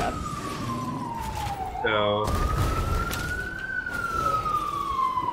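An emergency vehicle siren passes by outdoors at night, a loud, steady wailing tone that sweeps down then back up over constant traffic noise, with a brief voice speaking.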